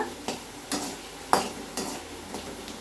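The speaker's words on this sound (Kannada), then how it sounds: "ಮೊದಲಿಗೆ ಸ್ವಲ್ಪ ಲೈಟಿಗೆ ಫ್ರೈ ಮಾಡ್ಕೊಳ್ಳೋಣ ಈರುಳ್ಳಿ ಎಲ್ಲ" Onion and curry leaves fry lightly in a pan for sundakkai huli, with a faint low sizzle punctuated by several sharp spoon taps and scrapes against the pan, close by, no speech.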